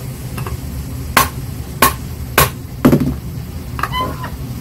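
A hammer whacks a screwdriver seated in a screw on an Olympus BH-2 microscope, four sharp metallic strikes spaced about half a second apart, close and crisp, followed by a faint clink.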